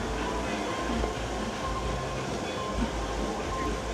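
A Dollywood train rolling in during the Harvest Festival, a low steady rumble with faint rail clatter heard from some distance under outdoor crowd noise.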